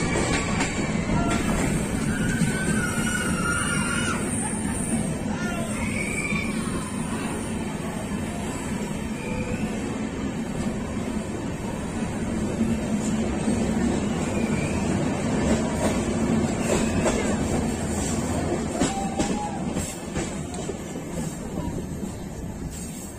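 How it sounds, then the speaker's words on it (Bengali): A train travels through hilly country on the way to Araku, giving a continuous, fairly close rumble of wheels and carriages with faint rail clatter throughout. "পাহাড়ের পর পাহাড় পেরিয়ে ট্রেন এগিয়ে চলেছে"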